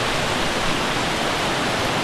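A large waterfall in Ecuador roars as a loud, constant, broadband rush of falling water, steady and unbroken throughout with no voices.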